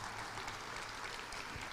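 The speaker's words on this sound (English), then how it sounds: "Another round of applause for Dean Mosiman." Audience clapping at a pharmacy and health sciences college hooding ceremony, a brief, faint burst of steady applause heard from a distance with no voices over it.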